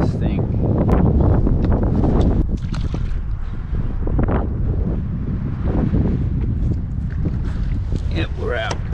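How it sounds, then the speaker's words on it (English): Strong wind buffets the microphone in a steady, loud roar while out on the water in a small 2.35 m Pryml Spartan kayak, with someone talking over it. "That wind is really strong now, and I'm even cold."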